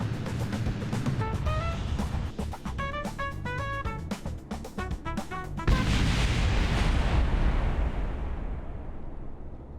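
Rocket blowing up during launch in Kerbal Space Program, a rumbling engine roar with crackling bursts that gives way to a broad explosive blast, loud and up close, no talking.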